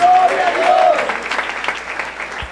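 A church congregation breaks into loud, sustained applause close by, with a voice briefly heard over the clapping at the start.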